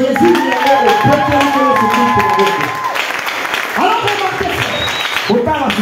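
A church congregation at a Sunday service in Ngaliema acclaims and applauds. Sustained clapping mixes with raised voices and cheering that fill the room, swelling, then briefly dipping near the middle.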